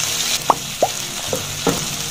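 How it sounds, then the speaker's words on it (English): Bell peppers and tomatoes fry in a pan with a steady sizzle throughout, broken by four short scraping stirs at even intervals. "So just going to fry this for about 2 minutes."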